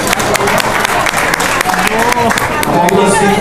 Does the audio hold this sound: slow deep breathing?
no